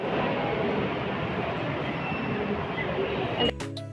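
A steady, loud rumble of a Bangalore metro train in motion fills the clip, ending with a sharp shift to a tonal hum as it slows.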